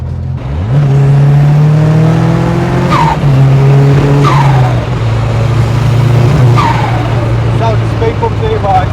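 A turbocharged Ford Sierra RS Cosworth replica accelerates hard under loud engine roar with rising revs and brief tyre squeal, shifting through gears across a speed-bump stretch while people talk over it.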